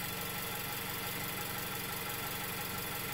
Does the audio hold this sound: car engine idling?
yes